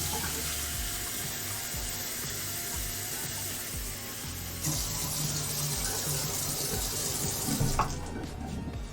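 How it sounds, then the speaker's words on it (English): Water pours into a pan on a stovetop, a steady rushing stream with faint sizzling underneath, continuous and close, shifting in texture partway through before a brief clatter near the end. "Gonna add about a cup of water to that."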